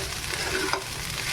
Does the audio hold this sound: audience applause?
no